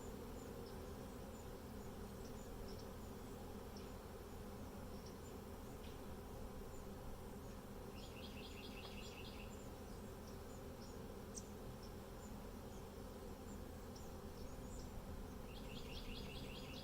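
Honeybees buzzing around a newly installed Flow Hive outdoors, a steady dense insect hum throughout, with faint bird chirps now and then in the background.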